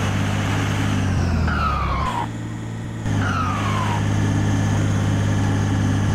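Heavy truck engine in Euro Truck Simulator 2, a loud, steady low drone with rising and falling gear-change sweeps, briefly dropping in level before resuming at full strength.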